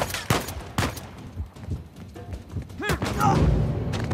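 Gunfire in the video game Uncharted 4: a handful of sharp shots and thumps scattered through a close-up fight, with a heavier burst near the end and someone talking over the action.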